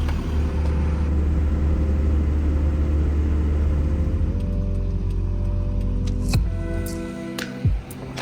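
A repaired old truck drives along the road, its engine droning steadily and loud up close, with a shift in tone midway and a few sharp clunks near the end.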